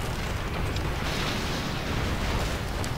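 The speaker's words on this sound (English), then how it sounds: "I think the China player is going to clear this out with his Inferno cannons" Inferno cannon artillery fire in a China-versus-opponent strategy video game battle, a dense, continuous rumble of explosions and booming blasts filling the whole stretch at steady high intensity.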